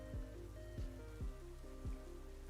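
Rain weather in a Pokémon battle plays as a looping patter of falling drops, with soft repeated splashes at a steady pace under a faint tonal bed.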